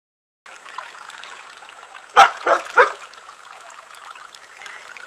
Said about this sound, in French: Et on va remplacer ça par des chiens qui aboient.